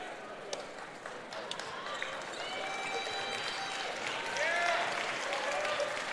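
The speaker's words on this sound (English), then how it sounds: "And a nice round of applause as the 5 players come out for Stan-Joaquin." Applause and crowd noise at a girls' high school basketball all-star game swell gradually, growing louder toward the end with a few scattered shouts.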